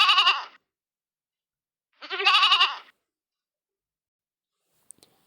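A goat bleats twice, wavering and close, with a long pause between calls and a faint click near the end.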